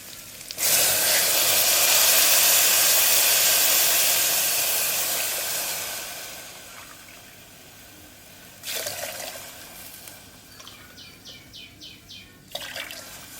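Water poured into a hot pan for vermicelli and semolina upma: a loud hissing sizzle bursts up and slowly fades, followed by a second splash and sizzle, with faint chirping sounds in the background.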